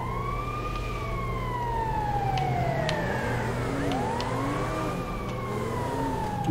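Ambulance siren in GTA 5, a loud wailing tone sweeping steadily up and down through the whole stretch, with a second siren layer and constant traffic rumble beneath.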